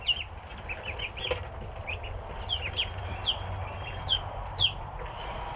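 Backyard chickens give short clucks and chirpy calls at close range, with a few sharper squawks spaced across the stretch over a steady low rumble of background noise.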